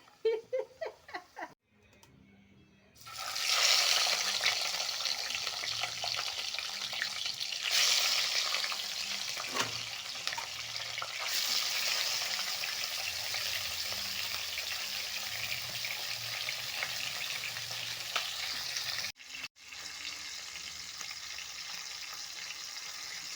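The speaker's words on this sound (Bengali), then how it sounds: "দেখুন এখন ভাজা হয়ে গেছে, আমি মশলাটা কষাচ্ছি।" Chicken, including a tough country hen, frying with spices in a pan, a loud continuous close sizzle with occasional stirring, after a brief clattering start.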